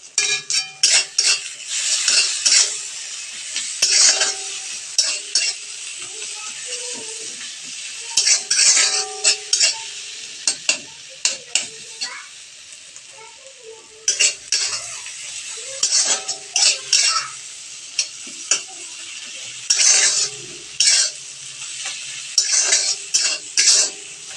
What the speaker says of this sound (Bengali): মশলাটা ভালোভাবে কষানো হয়ে গেছে